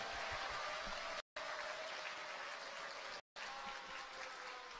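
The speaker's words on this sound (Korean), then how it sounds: "큰 박수 부탁드릴게요" Audience applause at a Korean youth talk concert in Busan for a saxophonist, a dense, steady wash of clapping that fills the whole stretch, briefly cut out twice.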